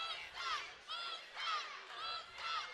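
A crowd at a CW 68 combat sports event chanting in support of fighter Musa Barros, about five rising-and-falling chant phrases in a steady rhythm, voices blended and somewhat distant.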